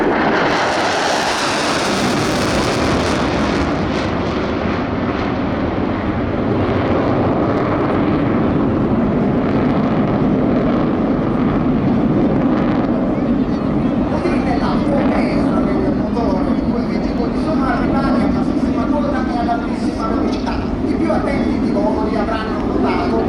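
Two Tornado jets of the 6th Wing fly at the Jesolo Air Show, giving a long, loud, continuous roar of jet engines that swells and then gradually recedes, with an announcer speaking over it.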